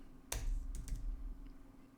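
Brief typing on a computer keyboard while entering a VAT rate into a spreadsheet, a couple of crisp close key clicks over a faint hum.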